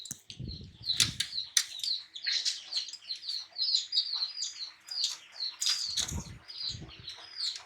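Bursts of pigeon wings flapping close by, mixed with chirps and squeaky tweets from small birds throughout.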